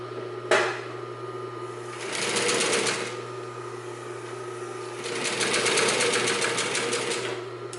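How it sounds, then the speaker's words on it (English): A Consew 226R industrial sewing machine driven by a clutch motor, which hums steadily between two separate bursts of rapid, rattling needle stitching, with a sharp knock near the start. "when this is a clutch motor, you can run the machine fairly slow or quite quickly"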